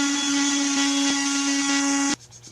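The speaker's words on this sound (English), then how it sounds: "we're going to follow up with an orbital sander with 150 grit to finish the process" Orbital sander fitted with 150-grit paper working over a wooden Duncan Phyfe style dining table, a steady loud whining hum held for about two seconds before it cuts off abruptly into quiet.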